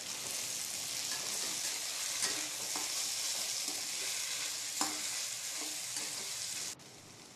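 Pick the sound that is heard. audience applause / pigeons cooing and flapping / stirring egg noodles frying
stirring egg noodles frying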